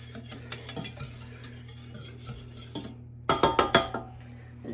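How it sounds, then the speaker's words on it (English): Cheese sauce being whisked smooth in a pot, quiet scraping at first, then a burst of four or five brisk, close metallic strokes against the pot near the end over a low steady hum. "but let's give it another little whisk here"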